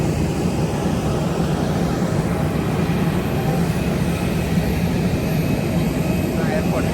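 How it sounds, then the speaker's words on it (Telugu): An airliner's jet engines at an airport give a loud, steady roar that runs unbroken throughout. "మనం వెళ్ళాల్సిన ఫ్లైట్ ఇదే."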